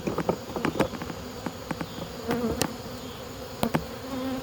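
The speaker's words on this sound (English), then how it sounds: "Pretty good sized swarm." A swarm of at least five pounds of honey bees being shaken into a truck bed buzzes steadily, with individual bees zipping close by in brief, louder passes over the dense hum.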